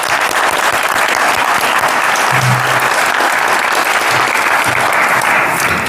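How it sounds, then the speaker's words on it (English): A large audience at a town deliberative session gives a loud, continuous round of applause, a thick, even roar of clapping that holds steady for several seconds. "I'd like to give a round of applause to all those folks."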